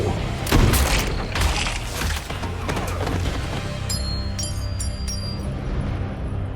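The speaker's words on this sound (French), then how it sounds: "Deadpool finit par trouver Francis, cause un gros accident et se ramasse pris au piège avec seulement 12 balles et 11 gros méchants à tuer." Gunfire erupts in a Deadpool action scene, with dense, loud bursts of shots and booming impacts over the first seconds, then a continuous din of crashes and clinks as the fight goes on.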